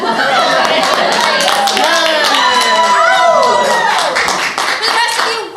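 A theater audience at an improv show claps and cheers in a loud, continuous wash of applause mixed with whoops and voices.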